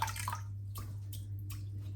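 Soft watery splashes and drips come in a few short bursts as a shaving brush is dipped in water, over a low steady hum, with no talking.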